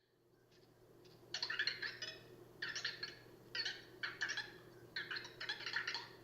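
A small robot sits in a quiet room and gives off repeated bursts of bright, chirpy electronic warbles, about six short clusters in quick succession over a faint steady hum.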